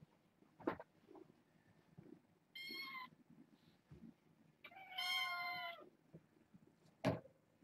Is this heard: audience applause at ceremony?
no